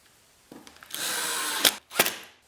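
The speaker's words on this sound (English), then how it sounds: "go ahead and screw it back down" A power drill drives a screw to fasten a wooden insert back into a table saw sled, a short whirring burst followed by two quick bursts, close and fairly loud with no talk.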